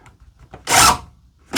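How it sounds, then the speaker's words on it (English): Screw driven into a wooden board to fix a wall-mounted storage rack, a short burst of grinding, rasping drive noise after a few faint taps, close and loud, then starting again. "we're gonna put in a screw here and lock us in,"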